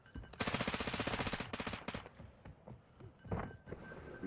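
Rapid automatic gunfire from Call of Duty: Warzone Mobile, a loud sustained burst of evenly spaced shots for about a second, followed by scattered single shots and impacts at lower level.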